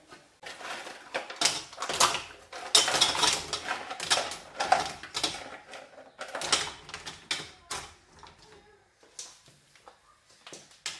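Mussels clatter into a metal pot of boiling water in a run of scraping, clinking shell sounds, loud and close with uneven bursts.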